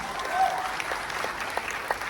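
Applause from an audience at a live show, a steady patter of clapping at moderate distance with a few faint crowd murmurs, brief and continuous.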